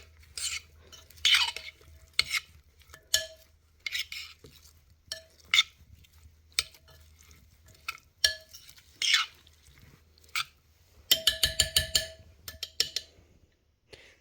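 A spoon stirs lamb curry in a pot, giving repeated scraping and clinking strokes against the metal, with a rapid flurry of clatters near the end.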